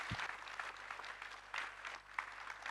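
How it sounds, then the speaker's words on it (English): A conference audience applauding, a broad wash of many hands clapping at moderate distance, sustained and fairly even throughout. "all of you really deserve a round of applause for the work you're doing"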